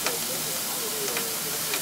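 A steady hiss of steam escaping from a steam locomotive fills the whole moment, with a faint low voice murmuring underneath.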